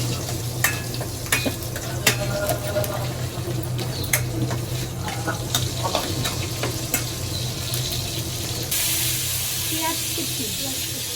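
Chopped onions hit a hot pan for a Bengali family-style dish, giving a steady close sizzle with scraping stir clatter that swells into a louder, brighter hiss near the end.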